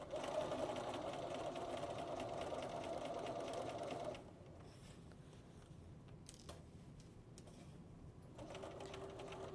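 A sewing machine stitches a wrap skirt seam with a fast, steady whirring hum, stopping briefly before starting up again, close and moderately quiet.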